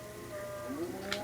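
A mooshroom cow in Minecraft gives a single drawn-out synthetic moo, clear and close over a steady hum, with no speech.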